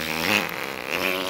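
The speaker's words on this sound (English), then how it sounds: "Why do you keep farting?" A steady, buzzy fart lasting over a second, close and moderately loud with a slight wavering rattle and no speech over it.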